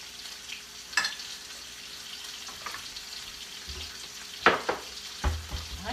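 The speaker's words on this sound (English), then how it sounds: "So we're gonna watch that steak for a moment. And the sizzle." A ribeye steak sizzles in a hot pan with a steady, soft frying hiss, broken by a few sharp clanks of utensils against cookware.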